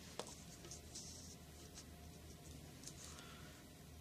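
Chalk or a marker writing on a board during a physics lecture, faint scratchy strokes with a few small taps, quiet against a soft room hum.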